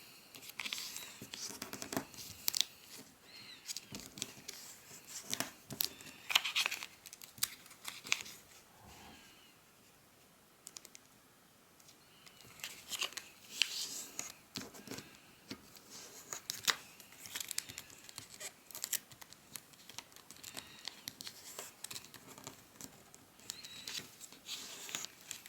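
Paper rustles and crinkles in short, irregular bursts as sheets are folded and creased into an origami crown, with soft, close handling sounds and a few quiet gaps.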